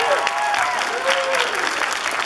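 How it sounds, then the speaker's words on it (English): A convention audience applauds the AV crew at RamenCon 2014, a dense, loud wash of many hands clapping continuously, with voices calling out faintly over it. "Let's give a round of applause to our AV guys"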